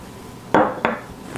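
Diced onion, blueberries and turkey bacon dropped into a bowl, two close, quick clattering knocks a moment apart, then a faint tap.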